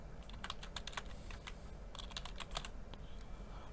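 Someone types a server IP, username and password on a computer keyboard: quick bursts of crisp, close key clicks with short pauses between runs, fairly quiet and with no talking.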